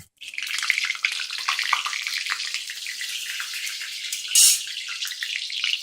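Cumin seeds sizzle and crackle in hot oil in a pan for a North Indian ladies finger curry, a steady close hiss with small popping bursts and one brief sharper spike near the end.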